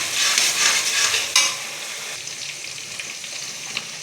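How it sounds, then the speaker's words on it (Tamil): Thuthuvalai greens sautéing in oil with small onions and garlic: loud, close sizzling with stirring scrapes, which eases after a sharp clatter partway through and then continues quieter. "எண்ணெயில் கீரை நல்லா வதங்கும் போது"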